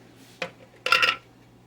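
A jar of home canned stewed tomatoes being opened in a home kitchen, giving a brief click followed by a louder, short clattering pop of the lid, close and clear with no talk.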